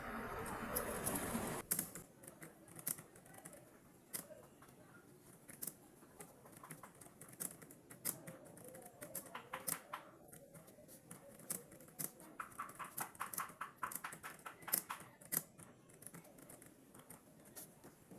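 Typing on a computer keyboard in Microsoft Word, a long run of quick, uneven key taps close to the listener, with a louder burst of noise at the start.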